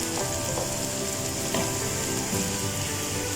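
Potatoes tipped into hot oil already holding fried ginger and garlic for aloo shimla mirch, a dense, loud sizzle that holds steady for a few seconds with faint clinks, no talking.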